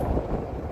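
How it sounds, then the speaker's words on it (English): Strong wind buffeting the microphone on a snowy mountain peak during a solo hike, a brief low roaring rush of gusts close up. "it's also super, super windy"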